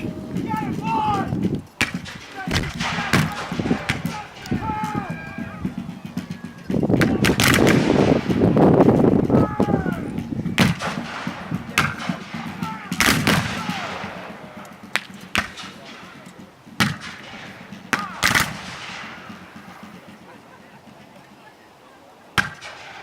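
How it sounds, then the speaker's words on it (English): Civil War reenactment battalion muskets fire in loud volleys and scattered sharp reports, with crackling shots and rumbling bursts rolling across an open field over several seconds. "when a battalion fires as a volley"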